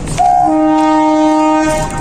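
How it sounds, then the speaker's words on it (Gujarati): A train horn blares loudly and close for over a second as the train prepares to depart Amreli Para station, with rumbling rail noise around it and no voices. "હવે ટ્રેન ઉપડવાની તૈયારી થઈ ગઈ છે થોડી વારમાં ટ્રેન ઉપડશે"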